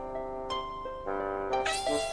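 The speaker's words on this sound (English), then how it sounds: "A cat?" A cat meows several times in a row, clear, close and fairly loud, each call rising and falling, with no talking.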